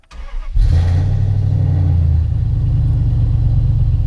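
A Dodge Charger built as a General Lee replica cranks and fires up, then settles into a loud, steady, deep exhaust rumble close by, with a slight dip in revs partway through.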